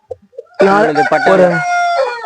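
A Peruvian-type rooster crows loudly and close at a rooster farm in Erode, one long, full cock-a-doodle-doo drawn out over a second, preceded by a few soft clucks.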